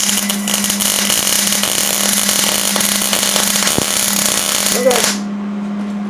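Welding produces a loud, steady buzzing hiss with a low hum underneath that cuts off abruptly near the end, while a voice speaks briefly.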